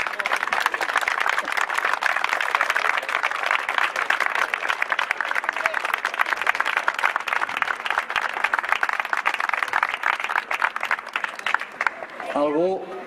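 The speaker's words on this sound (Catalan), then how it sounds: "us volien demanar un aplaudiment per tots els companys que venen de Mer" Sustained crowd applause at a street rally for the Catalan Republic, dense steady clapping from many hands that fades out near the end as a voice begins to speak.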